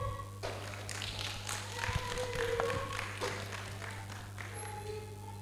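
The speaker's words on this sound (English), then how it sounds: "a big round of applause to Dr. Kijakazi from the National Institute of Medical Research for a well done presentation." An audience at a health forum applauds after a medical research presentation. The clapping is moderate and scattered, rises and fades over a few seconds, and a low steady hum from the hall runs beneath it.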